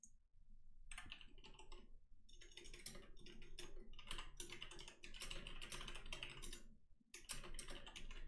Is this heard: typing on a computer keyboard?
yes